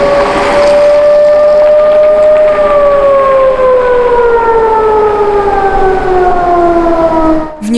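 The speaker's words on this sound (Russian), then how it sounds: "Вой сирен сегодня был слышен во всем регионе" Civil defense warning sirens sound the 'Attention all!' alert across a region near Samara in Russia, a loud, sustained wailing tone that slowly falls in pitch and carries strong overtones throughout.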